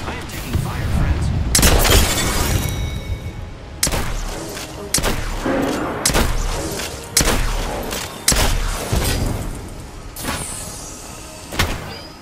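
Apex Legends firefight with gunfire and thermite grenade explosions: loud, sharp bursts and booming hits recur every second or two, each fading into rumble, with some voice audio mixed into the action.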